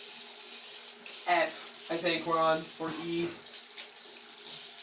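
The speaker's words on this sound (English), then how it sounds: "Run your knife under some hot water." Hot water runs from a kitchen tap during baking, a steady close rushing stream that continues throughout while a person talks over it.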